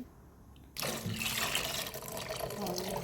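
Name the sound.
pouring water into a pot with rice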